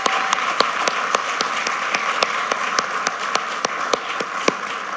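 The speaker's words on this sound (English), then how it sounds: "Another round of applause," Audience applause at a live event, a steady wash of many hands clapping with sharp individual claps standing out, sustained and even throughout.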